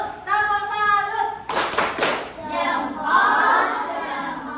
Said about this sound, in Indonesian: kita beri tepuk salut